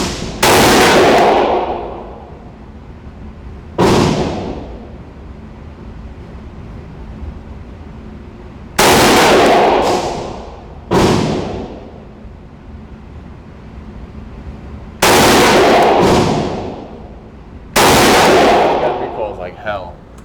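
Springfield Armory Hellion 5.56x45mm bullpup rifle, outdoors, fires five loud, sharp shots at irregular intervals, each blast ringing out and echoing before fading into wind noise.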